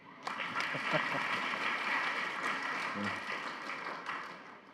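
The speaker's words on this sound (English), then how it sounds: "clap for him." An audience at a session hall bursts into applause that holds steady, moderately loud and somewhat distant in the room, with some murmuring mixed in.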